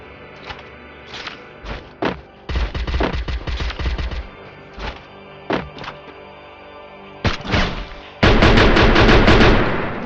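Gunfire in a shooting video game rings out as a run of sharp repeated shots with pauses between short bursts, ending in a dense rapid volley, loud and close with no talk.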